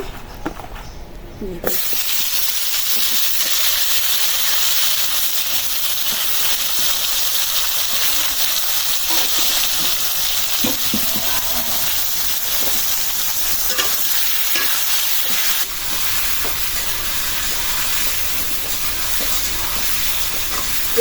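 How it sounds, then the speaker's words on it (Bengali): Spiced pointed gourd fries in hot oil, a loud, continuous hiss and sizzle that starts abruptly after a quiet moment and carries on steadily, with occasional stirring. "এখন আমি পটল ভাজার জন্য তেল দিয়ে দিলাম"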